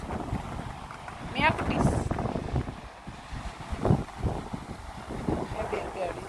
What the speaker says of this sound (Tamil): நல்லாவே காற்று சிறு சிறு சிறு காற்று சவுண்டு எப்படி பாருங்க.